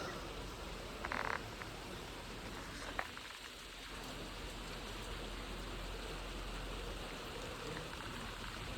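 Steady rain falls near the Bhairi Bhavani temple in Kasaba, Sangameshwar, during Navratri, a soft continuous patter with frogs croaking in the background and a few faint knocks. No one speaks.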